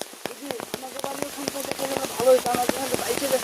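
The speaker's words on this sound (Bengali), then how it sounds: "এত বর্ষণ হচ্ছে গাইস। দেখেছেন প্রচন্ড স্রোত" Heavy rain pours onto a road in a downpour, with rushing floodwater; a steady wash of drops and sharp repeated splashes runs throughout, close and fairly loud, with a voice talking over it.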